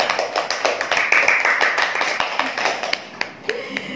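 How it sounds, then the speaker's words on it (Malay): Guests at a speech club class receive a round of applause, a dense crowd clapping that swells and then thins out over a few seconds, with no talk over it. "Kita bagi tepukan yang gemuruh kepada semua dan tetamu."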